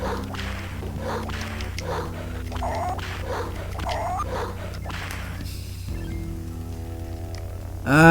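A dog in the Earthworm Jim video game gives a run of repeated barks and whip-like cracks over steady game music and background noise. A brighter sound rises sharply right at the end.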